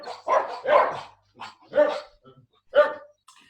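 A dog barks and yips during a plankton lecture, a rapid run of short, close, sharp barks with brief gaps, with no talking over them.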